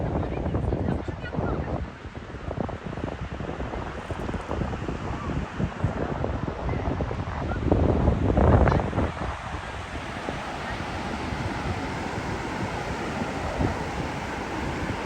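Gusty wind buffets and roars into a phone microphone, rumbling and uneven, rising to a strong blast partway through, with faint talk underneath.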